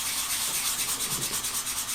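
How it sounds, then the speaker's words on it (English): Sanding a wooden picture frame before painting, a steady back-and-forth rubbing with a regular rhythm, close and continuous with no talking. "A little extra priming and sanding prepared for paint."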